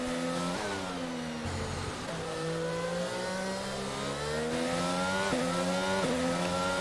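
A Formula 1 car engine in F1 22 at the Canadian Grand Prix screams in a loud, continuous tone, with quick downshifts and blips dropping the pitch at several points before it climbs again, with no talking.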